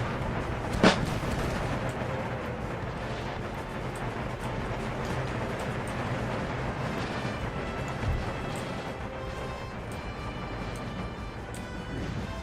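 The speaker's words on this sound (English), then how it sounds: "they just drop some volleys off" Musket volleys in the strategy game Empire: Total War, played with the Darthmod mod, roll out as a dense, continuous battle din with one sharper crack early on and distant rumbling fire throughout.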